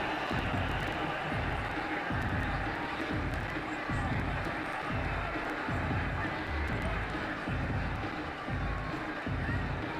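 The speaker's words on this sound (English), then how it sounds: "That shot brought the crowd to their feet." A cricket stadium crowd at an IPL match between Punjab Kings and SRH roars after a boundary shot, a dense, continuous wall of cheering and noise with rhythmic low thumps running through it.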